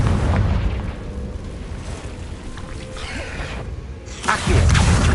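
A Confringo spell explosion in Hogwarts Legacy, a dense booming blast that rumbles throughout, eases off briefly and then swells again into a second loud burst near the end, with game sound effects mixed in.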